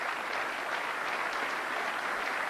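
Sustained applause from a crowd at the end of a men's pool final, a steady dense wash of clapping with no break.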